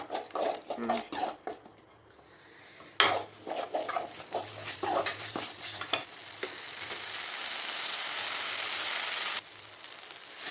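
A spoon scrapes and clatters as veg biryani masala is stirred in a pan, with intermittent scraping strokes that give way to a steady frying sizzle.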